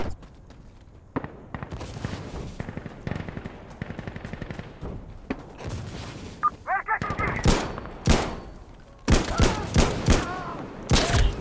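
Rapid gunfire from Insurgency Sandstorm rattles in loud automatic bursts and sharp single shots, close and heavy toward the end, with game noise and rumble underneath.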